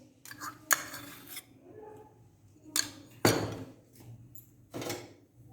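A spoon mixes cream and mayonnaise in a glass bowl, giving soft, close clinks and scrapes in a few separate bursts with quiet pauses between.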